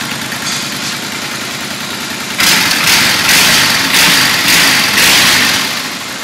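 A Honda Shadow 750 motorcycle fitted with a Roncar Scorpion 2Way exhaust set to silent mode idles with a loud, close engine rumble, then rises slightly and stays steady with gentle revving swells.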